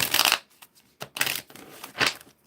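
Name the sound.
shuffling a deck of gemstone cards for a reading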